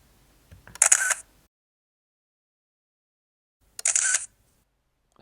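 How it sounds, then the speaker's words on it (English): Two crisp mechanical shutter clicks from a 2001 Sony DSC-S85 digital camera, each a short crunchy snap, separated by about three seconds of silence. "And the crunch of the shutter sound is pretty satisfying."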